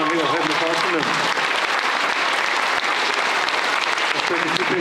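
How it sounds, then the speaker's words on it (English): Crowd applause at a high school national signing day ceremony, continuous full clapping from the audience with a speaking voice briefly over it at the start. "let's give a big round of applause"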